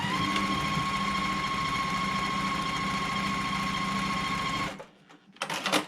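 A sewing machine stitching Dresden blade quilt pieces along an edge runs in one steady, fast, continuous whir for several seconds, then stops abruptly before a brief burst of handling noise.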